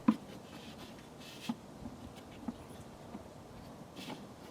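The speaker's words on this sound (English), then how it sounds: "I slid the new air filter into the box, making sure its rubber edges were seated" A new K&N air filter slides into the plastic air box of a 2021 Mercedes GLC 300 with the M264 engine, making faint scuffing and light rubbing sounds with a few soft taps close by against a quiet hum.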